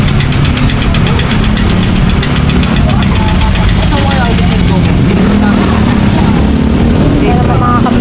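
A motorcycle engine runs close by with a loud, continuous knocking chug at a steady idle-like pace and no pauses.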